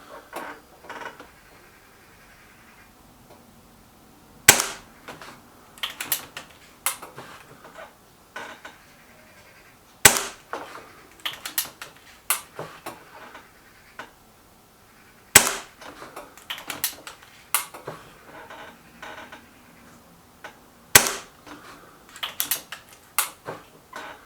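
A BSA R12 SLX air rifle fires four sharp, loud cracks about five seconds apart, each shot separated by quieter clicking and handling noises.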